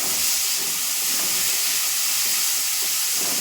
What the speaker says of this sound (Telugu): ఇప్పుడు దీన్ని బాగా ఫ్రై చేసుకోవాలి.